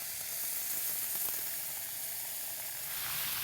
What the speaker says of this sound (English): And then we're going to add our beef stock.